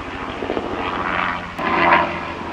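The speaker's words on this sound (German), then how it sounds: "Mit dem Hubschrauber kannst du Rundflüge machen, wenn du willst." A steady engine drone of a helicopter passing overhead in the Sarek area of Swedish Lapland, rising slightly louder toward the end, with no voices.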